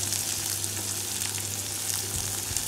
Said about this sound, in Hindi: हमारी राई थोड़ी सी ब्राउन हो गई है, इसीलिए हम इसमें डाल रहे हैं कच्चे प्याज